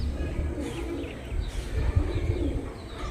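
A pair of Panjabi Malbai pigeons gives soft, low, repeated throaty coos close by, with brief rustling between the calls.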